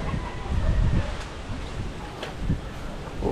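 Strong wind buffets the microphone outdoors near a beach, a loud, gusty roar with low rumbling surges that fade slightly and return, with no talk.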